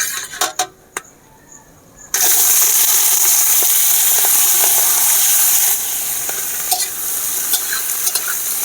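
Carrots and whole garam masala fry in a pan while being stirred, a few scraping clinks first, then a loud, steady sizzle that hisses on close by, easing slightly toward the end, with occasional stirring knocks.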